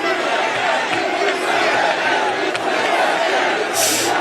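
A crowd at a politician's speech roars and shouts in a loud, sustained swell of cheering and chanting voices, with a few sharper peaks near the end.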